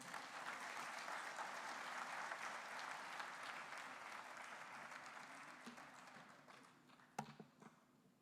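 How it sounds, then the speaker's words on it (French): An audience at the opening of an international conference in Cocody gives a faint, distant round of applause that is steady at first, gradually fades, and ends in a few isolated louder claps or knocks. "Sous vos applaudissements."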